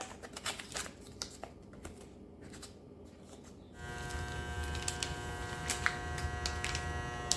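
ikiu mason jar vacuum sealer pumping air out of a jar, a steady electric buzzing hum that starts partway through and holds, close, after some earlier clicks and handling.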